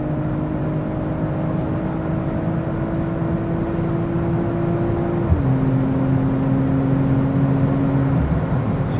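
BMW M340i xDrive under full-throttle acceleration, a loud, steady engine drone heard from inside that climbs in pitch, briefly drops at a gear change, then climbs again, with no talking.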